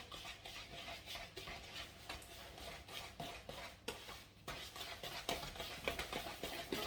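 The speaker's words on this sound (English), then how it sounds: "So we'll do just a big spoon, just so we can get in there, mix it all." Carrot cake batter is mixed by hand with a big spoon in a bowl, giving faint, rhythmic wet scraping and stirring strokes close by, repeating steadily with small knocks against the bowl.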